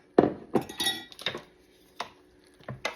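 Spoon clinking and scraping against a metal pot while milk is stirred into baked macaroni and cheese, a few separate clattering strokes spread across a few seconds, close and moderately loud with no talking.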